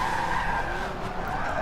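A race car braking hard in the racing video game Forza 7, its tires screeching in a loud, sustained skid over engine noise, with no talking.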